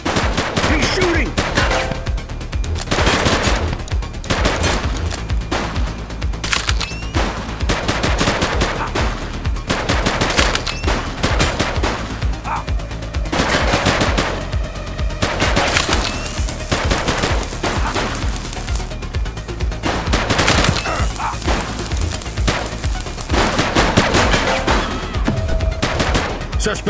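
Sustained gunfire in a police shootout in The Precinct, with rapid automatic bursts and repeated shots hammering on almost without pause, loud and dense, with occasional voices mixed in.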